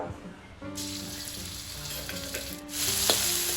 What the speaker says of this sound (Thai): เดี๋ยวเราไปเจียวกระเทียมกันครับ